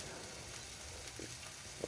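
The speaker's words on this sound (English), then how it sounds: "Well, not grilling, they're frying." Soft, steady sizzling of sausages frying in a pan, quiet and continuous, with a faint clink near the end.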